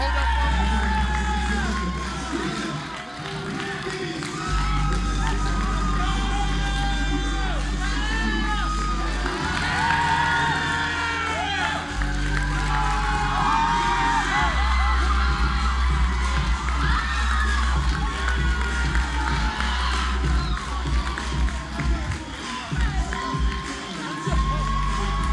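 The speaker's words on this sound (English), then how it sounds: "Y'all make some noise. Help them out." Crowd, including children, cheers and shouts at an event with a former NFL player, a sustained loud roar of whoops and yells over a thumping low background, continuing throughout.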